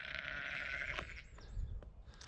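A sheep bleats loudly near the start on a farm during lambing, a drawn-out nasal call that fades, followed by low rustling and shuffling outdoors.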